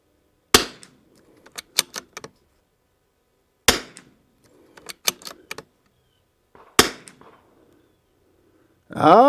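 A rifle fitted with an EC Tuner V2 barrel tuner fires three sharp, loud shots several seconds apart, each followed by a few quick metallic clicks of the action, with quiet gaps between and a brief voice at the very end.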